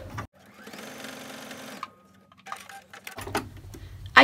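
Sewing machine stitching a quilt-as-you-go log cabin table topper, with a steady rapid mechanical whir for over a second, a pause, then a shorter burst followed by handling clatter.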